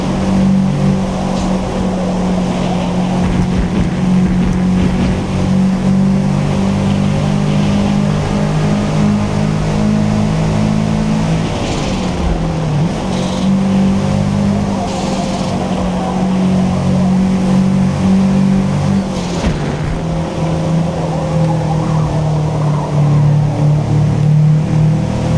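A race car engine holds full throttle in the Forza Motorsport video game, a loud, steady drone with pitch rising and briefly dipping at shifts before climbing again, continuous and alone throughout.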